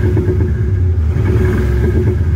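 A Mercedes W222 fitted with Thor exhaust sound generators rumbles steadily and loudly up close, with the three short revs blurred into one continuous deep drone.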